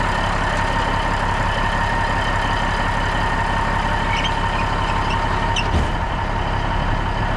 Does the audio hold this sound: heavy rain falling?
no